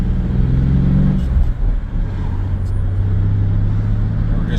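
A 1996 Chevy S10 pickup with a 4.3 engine and Holley Sniper fuel injection cruises up a steep highway, its engine droning steadily and loudly from inside the cab with road noise and a brief dip midway.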